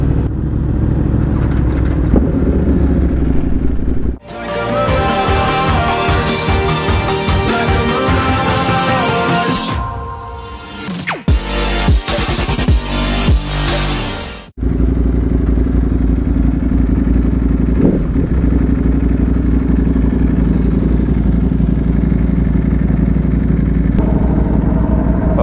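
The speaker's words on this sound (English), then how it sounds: "We got two Panigale V4s and two R1Ms." Two Ducati Panigale V4 and two Yamaha R1M motorcycles idle and rev loudly nearby, with a sharp burst of revving and clatter in the middle before settling back to a steady rumble.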